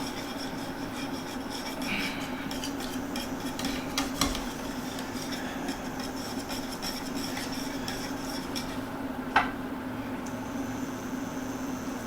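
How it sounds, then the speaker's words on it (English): A sauce is whisked in a pot in a home kitchen, producing a soft continuous scraping and stirring with a couple of sharper metallic clinks, fairly quiet throughout. "keep whisking this"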